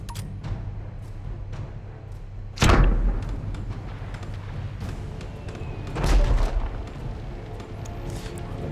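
Ship cannons firing in the naval video game Abandon Ship: two heavy booming blasts a few seconds apart, each a sharp loud thud with a rumbling tail over a low background of wind and creaking.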